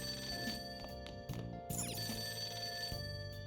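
Telephone bell of a payphone in Persona 5 Royal rings repeatedly over soft game music, quiet and continuous.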